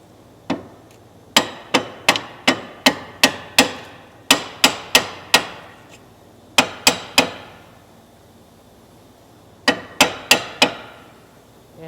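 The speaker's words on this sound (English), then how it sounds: "Push it in with a hammer." A 2010 Ford Escape front lower control arm is driven into place with a hammer: sharp, close metallic blows land in quick bursts of three to five, separated by short pauses, with no talking.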